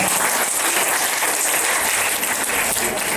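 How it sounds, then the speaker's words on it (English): A crowd at an alumni meet breaks into a big round of applause, a continuous, loud roar of clapping with no pause and no talk over it. "So give a big round of applause"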